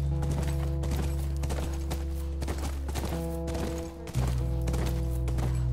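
Horse hooves clip-clop in a steady rhythm during riding in The Last of Us video game, close and clear over a constant low background drone, with no talk.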